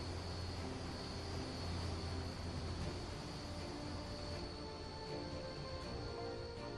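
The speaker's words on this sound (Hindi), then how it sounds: "इसके बाद कमांडोज को लेकर एयरफोर्स का ट्रांसपोर्ट प्लेन AN-32 हाईवे पर उतरा।" An Air Force AN-32 transport plane lands on a highway with a sustained, droning engine roar that holds steady throughout, distant-to-moderate in loudness, with no talk over it.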